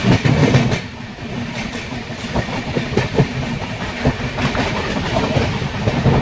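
The Dhauli Express runs from Puri toward Shalimar, nearing Bhadrak station, with a steady, loud rumble and rhythmic wheel clatter from inside the carriage throughout.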